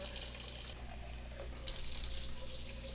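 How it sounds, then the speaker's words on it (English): Cold water runs from a kitchen tap into a cooking pot in a steady, moderately loud stream, its pitch shifting a little as the pot fills. "we're going to fill this pot up with cold water"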